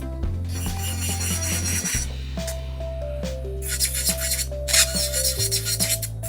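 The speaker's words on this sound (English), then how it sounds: "I'm just using the weight of my drill bit." An electric nail drill bit files an acrylic nail up close, giving a continuous motor whine with shifting pitch and gritty, scratchy rasping bursts as the bit works the surface.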